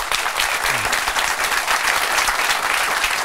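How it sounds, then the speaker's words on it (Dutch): Loud, dense applause from a crowd at a fan event, continuous clapping throughout with a faint voice briefly audible early on. "Applaus"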